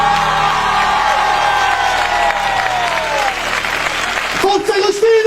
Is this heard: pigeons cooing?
no